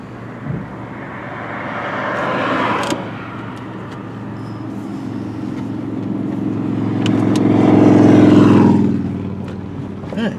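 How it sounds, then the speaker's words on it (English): A 1999 Mitsubishi Montero Sport V6 engine hums steadily from inside the SUV, then swells louder as it accelerates and drops back, with faint clicks and rattles along the way. "I like that V6 power."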